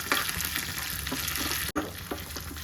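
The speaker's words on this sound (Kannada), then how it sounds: "ಇದಕ್ಕೆ ಸ್ವಲ್ಪ ಪುದೀನ ಸೊಪ್ಪನ್ನು ಹಾಕಿ 1 ನಿಮಿಷ ಫ್ರೈ ಆಗಬೇಕು" Browned onions with mint leaves fry in hot oil for an egg masala, giving a continuous close hiss and sizzle with faint stirring scrapes and a brief break partway through.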